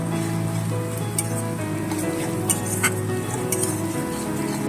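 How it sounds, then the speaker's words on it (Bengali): Ginger and garlic paste is sautéed in a pan with spices, producing a continuous sizzle under a low steady hum, with a few bright clinks from a spoon scraping and tapping the pan. "এক চামচ আদা বাটা আর এক চামচ এই যে রসুন বাটা সব কিছু ভালো করে একটু কষাতে থাকি"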